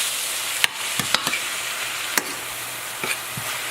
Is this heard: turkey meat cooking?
yes